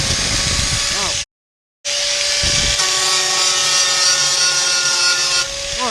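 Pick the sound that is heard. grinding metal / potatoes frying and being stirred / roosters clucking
grinding metal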